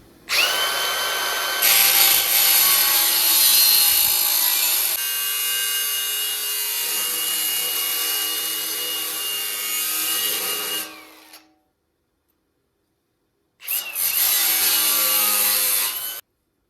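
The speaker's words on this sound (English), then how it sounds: "This is the last sawzall blade, cut off wheel, so let's make it last." A Sawzall reciprocating saw cuts through floor pan metal on a 1978 Ford, a loud sustained buzzing rasp for about eleven seconds, then silence before a second burst of cutting.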